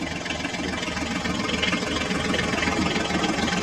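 A mini toy tractor's small engine runs steadily and close by, with a continuous idling buzz that holds for several seconds before cutting off abruptly at the end.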